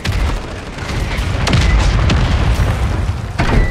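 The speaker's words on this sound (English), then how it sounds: "That's that bomb in there." Loud booming blast from a bomb in the video game Call of Duty Warzone, a dense roar of explosions and rumble with a couple of sharper bangs, filling the whole stretch without talk.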